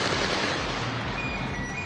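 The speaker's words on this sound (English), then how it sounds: "And you hear the fireworks, a traditional part of the celebration to chase evil spirits away" Fireworks at a Chinese New Year parade in San Francisco pop and crackle in dense, continuous rapid bursts, loud and close throughout.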